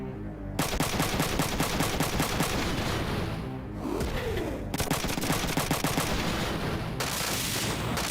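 Sustained gunfire in the mech game Front Mission 3 rattles in loud, dense rapid bursts, broken by a brief pause before the firing resumes, with no voices.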